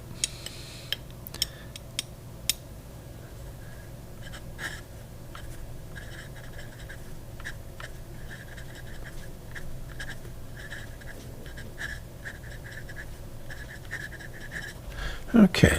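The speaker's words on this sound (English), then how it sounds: "let's see how it writes on the STALOGY paper" A pen writes on Stalogy paper with faint, steady scratching strokes and a few soft taps, quiet and close over a low room hum.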